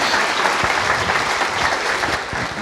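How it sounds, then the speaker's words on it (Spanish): Audience applause welcoming a doctor onto the stage at a talk, a steady dense clapping from a large crowd that holds at full strength for the whole stretch with no voices over it. "Por favor, recibamos con un fuerte aplauso al doctor Sang-Gun Yu."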